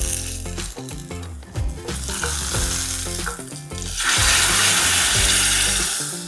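Prawns and curry leaves hiss and sizzle as they drop into a hot curry gravy with mustard seeds, shallots and whole red chili. Music plays throughout, and a loud, steady frying roar swells in about two-thirds of the way through.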